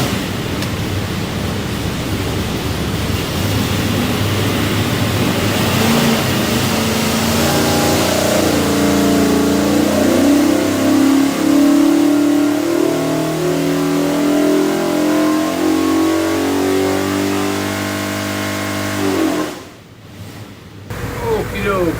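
A 427ci Ford FE V8 with Edelbrock Pro Flo EFI and a Moroso front-sump oil pan roars loudly on a dyno, building through a sustained full-throttle pull before cutting off near the end, then briefly rumbling again.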